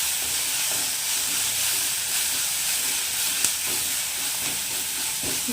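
Crab masala frying in a pan, a loud, steady hissing sizzle that runs without a break, with faint stirring underneath.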